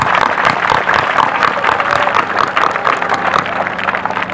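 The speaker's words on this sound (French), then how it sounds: "Applaudissez très fort s'il vous plaît." Loud, sustained crowd applause at a football cup final ceremony honouring soldiers at the front, thick continuous clapping from a large audience.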